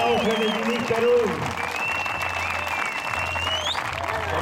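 An event crowd at the Swiss Heli Challenge 2012 applauds while a loud voice speaks over a PA, with the clapping forming a dense wash beneath the talk and tones.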